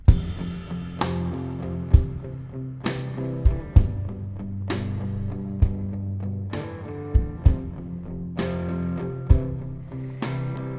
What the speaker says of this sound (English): So in this section, the drums start to come in.